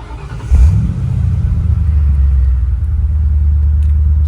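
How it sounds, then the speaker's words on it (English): A 1966 Ford F100 with a swapped-in 4.6L V8 cold-starts: a brief cranking whine, then the engine catches and settles into a steady, loud, low idle rumble with no talking. "this is going to be a cold start from the driver's perspective"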